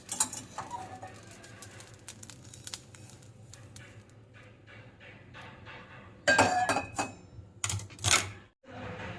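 Ajwain and fennel seeds dry-roasting in a pan crackle with sparse, light ticks and pops, then a few louder clatters of seeds and scraping near the end.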